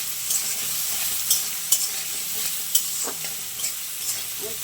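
Onions and spices frying in a pan while being stirred: a continuous close sizzle broken by several sharp scrapes and clicks of the utensil against the pan, with no talking.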